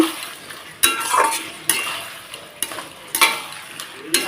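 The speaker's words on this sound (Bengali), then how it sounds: "এই যে এঁচোড় আর আলুটাকে ভেজে রেখেছি দিয়ে দিলাম এখন এটা দিয়ে ভালোভাবে একটু কষিয়ে নেব" Fried jackfruit and potato pieces are stirred into a spice masala in a hot pan, with a steady sizzle broken by several scraping strokes of a spoon against the pan.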